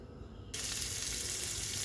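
Garlic and onions hit hot oil in a pan for fried rice, a sudden steady hiss of sizzling frying that starts after a brief quiet moment and continues loudly, close by, with no voices.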